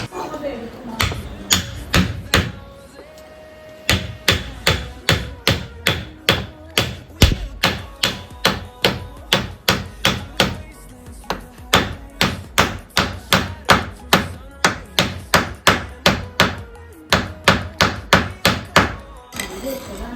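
A hammer strikes a wooden block wedged under a door to fix it rubbing the floor, giving a long run of steady, loud, sharp knocks in quick even rhythm with a few short pauses. No talk is heard over the blows.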